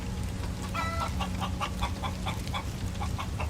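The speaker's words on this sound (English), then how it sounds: "A chicken comes by." Minecraft chicken clucking in a run of short repeated clucks at a steady pace over a soft low ambient hum.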